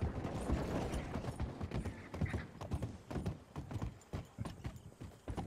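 Steady horse hooves clopping in a quick trotting rhythm in the video game Red Dead Redemption 2, close and fairly quiet, with faint mechanical clicks underneath and no talking.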